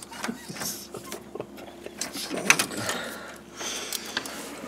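A bolt is tightened on the mount of an electric cooling fan on a Chevrolet Impala Caprice, making close, uneven ratcheting clicks and metallic scraping in short irregular bursts.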